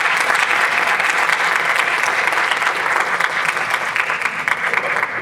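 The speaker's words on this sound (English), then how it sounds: "Yes, applause is well deserved." Steady, sustained audience applause after a talk at an ocean science speaker series, many hands clapping evenly and fairly close for the whole stretch with no voices on top.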